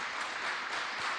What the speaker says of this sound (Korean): 우리 3교구 11구역 19구에서 큰 박수 부탁드립니다